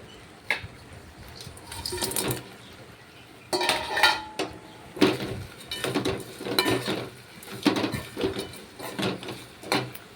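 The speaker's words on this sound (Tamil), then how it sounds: "பொரிச்சு வச்சுருக்க காலிஃப்ளவர் ஆட் பண்ணி மிக்ஸ் பண்ணணும்" Fried cauliflower is mixed into thickening Manchurian sauce in a pan for gobi manchurian, with repeated close metallic scraping and clattering of a spoon against the pan in uneven bursts and no speech.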